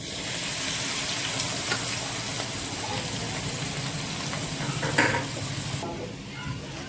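Ginger-chili paste hitting hot oil in a pan, crackling into a steady loud sizzle with stirring scrapes and a few sharper spatters near the end.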